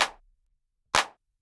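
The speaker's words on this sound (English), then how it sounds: "And then like a classic drum machine clap." A classic drum machine clap, completely dry with no reverb. Two sharp, short, noisy hits land about a second apart and cut off quickly, heard alone.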